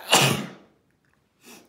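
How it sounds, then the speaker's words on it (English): A single sharp sneeze comes close and loud, then quickly fades into silence. A second, fainter burst follows about a second later. "I'm gonna sneeze."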